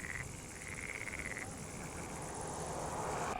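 Lessona's pool frogs call from reedbed ponds in a nature reserve, a continuous chorus of croaking and buzzing calls at moderate distance, steady throughout with no voices.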